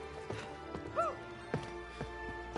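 Horse hooves at a horse derby in the co-op game It Takes Two: a few sharp clip-clop hoof strikes spaced apart, with a brief whinny-like tone over a soft game background.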